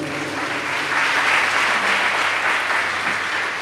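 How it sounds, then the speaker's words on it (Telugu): A church congregation claps loudly together during a sermon, a dense, sustained burst of applause that swells slightly and continues throughout. "గట్టిగా ఒకసారి చప్పట్లు కొట్టండి"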